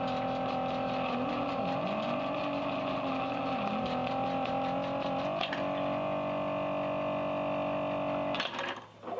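A 1971 electro-mechanical arcade car driving game runs continuously, its buzzy, distorted engine-like drone wavering in pitch with steady mechanical tones layered over it, loud and close, before cutting out abruptly near the end.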